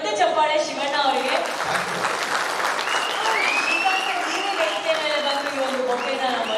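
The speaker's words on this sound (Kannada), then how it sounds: "ಮತ್ತೆ ದೊಡ್ಡ ಚಪ್ಪಾಳೆ ಶಿವಣ್ಣ ಅವರಿಗೆ" Large crowd at a film pre-release event cheering and applauding for Shiva Rajkumar, loud continuous clapping and whistles filling the whole stretch, with voices mixed in.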